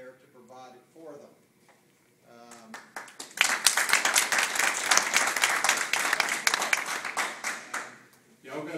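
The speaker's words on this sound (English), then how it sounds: "Y'all got to give me equal applause there." A town hall meeting audience breaks into applause after a speaker's voice, the clapping swelling loud and dense for several seconds before tapering off as talk resumes.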